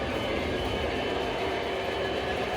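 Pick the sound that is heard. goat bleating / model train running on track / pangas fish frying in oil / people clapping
model train running on track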